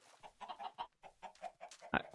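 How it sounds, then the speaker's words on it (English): Chickens cluck on a chicken farm in Minecraft, a rapid series of short, close clucks in an uneven rhythm with no talking. "I've got this handy dandy chicken farm going."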